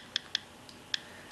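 Keys tapped on the QWERTY keyboard of an LG Optimus One P500 phone: three or four faint, crisp clicks spaced unevenly over a quiet background, with no talking.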